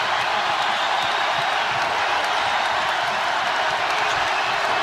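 Steady roar of a basketball arena crowd during an Iowa vs Nebraska women's college game, a dense, even wash of cheering and clapping that holds without a break.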